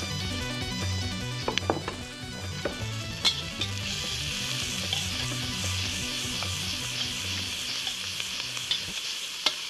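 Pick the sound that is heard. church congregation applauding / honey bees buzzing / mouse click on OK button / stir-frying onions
stir-frying onions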